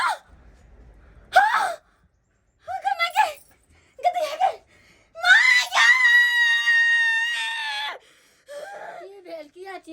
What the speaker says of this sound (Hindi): की भेल किया चिल्लाइ छी